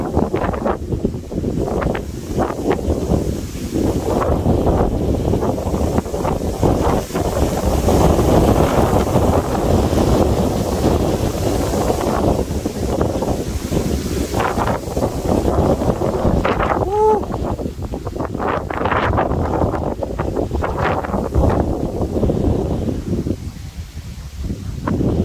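Strong foehn south wind storm blowing outdoors: loud continuous roaring gusts buffet the microphone with rustling leaves, surging and easing over time, with a brief voice heard under it.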